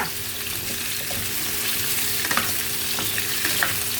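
Food stir-frying in a pan, a steady close sizzle with a few light spatula scrapes and taps over a continuous hiss, no talking.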